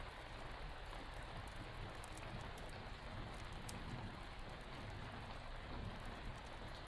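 Steady rain falls at night in a continuous dense hiss of drops, unbroken and even throughout, with no voices.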